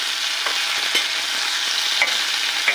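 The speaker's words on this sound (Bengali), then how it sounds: "এখন এটাকে সরিষার তেলে ভেজে নিচ্ছি" Spiced shrimp, coated in salt, turmeric and chilli powder, fry in mustard oil with a loud, steady, crackling sizzle and occasional stirring clicks, close and continuous with no voices.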